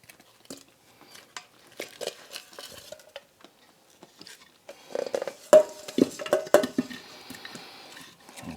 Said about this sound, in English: I'm gonna take the oxtails and I'm gonna put them down in my crock pot